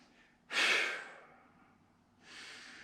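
A deep breath drawn and released during a workout stretch, one strong audible exhale followed by a softer second breath, close and quiet with no talking.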